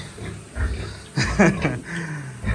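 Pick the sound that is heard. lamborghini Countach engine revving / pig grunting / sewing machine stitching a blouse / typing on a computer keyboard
pig grunting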